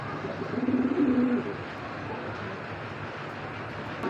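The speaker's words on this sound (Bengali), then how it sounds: "এগুলা নেদারল্যান্ডের কবুতর বাচ্চা, অরিজিনাল নেদারল্যান্ডের ব্রিডের কবুতর" Netherlands-breed racing pigeon squabs give a soft, low cooing burst early on, close by, then fade into a steady background hum.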